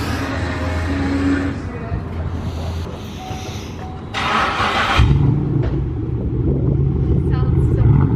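A straight-piped Chevrolet SS with its exhaust running, a deep droning rumble that swells into a louder, lower revving roar midway, heard close up with voices over it.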